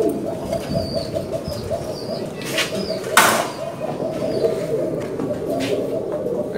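Adana pigeons cooing in a loft, soft repeated low coos under a constant background hum, with a brief sharp knock partway through and faint chirps from other birds nearby.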